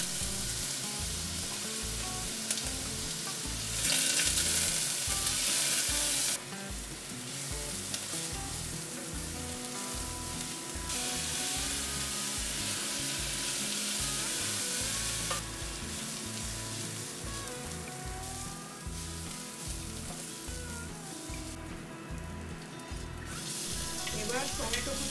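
Chopped onion, ginger, green chili and garlic frying in a pan, giving a continuous sizzle with occasional stirring scrapes, close and steady throughout.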